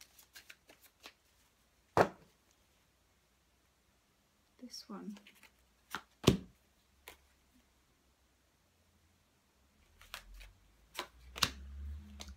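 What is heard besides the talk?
shuffling tarot cards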